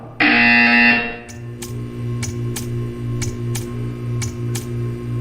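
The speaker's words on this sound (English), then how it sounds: "You will hear a buzzer." A loud, harsh electronic buzzer from the video game Portal 2 blares steadily for about a second, then a low hum continues under a series of sharp, evenly spaced clicks.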